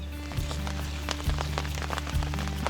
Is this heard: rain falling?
yes